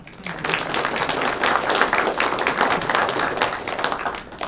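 An audience at a university informatics department seminar claps together, a fairly close, dense burst of hand claps that holds steady for several seconds with no speech over it.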